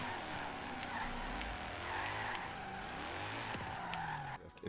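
Car drifting sideways in Forza Horizon 3 under heavy throttle, with a steady loud engine drone and continuous tire squeal that bends in pitch through the slide, ending with a brief drop.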